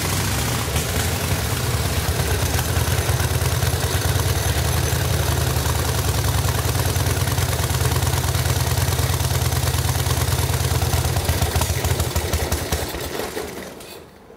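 An antique motorcycle engine, run for the first time in over 50 years after being started by pedaling, with a loud, steady low throbbing and rattle heard up close that fades near the end.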